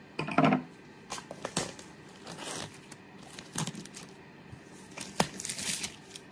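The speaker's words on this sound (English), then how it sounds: "So I am going to take the plastic off." Plastic shrink wrap crinkles and tears as it is pulled off a Successors board game box from a Kickstarter, in close, intermittent bursts of crackling and ripping with short pauses between.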